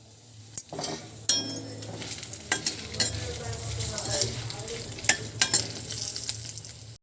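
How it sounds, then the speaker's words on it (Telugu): Dried red chillies frying in a little oil in a pan give a soft, steady sizzle, broken by sharp clinks and scrapes as they are stirred, faint and close. "బాండీ పెట్టుకొని కొద్దిగా ఆయిల్ పోసి ఎండుమిర్చిని వేపుకోవాలి"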